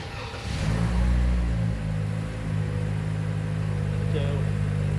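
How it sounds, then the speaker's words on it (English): A sedan's engine starts up with a brief rev and then settles into a smooth, steady idle, close and fairly quiet, with a faint background hum. "If you want to start the car up, it'll start up just like the ES350 we drove."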